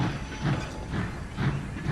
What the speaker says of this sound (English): Sparky thought he could hear a weird clanking sound coming from his wheels.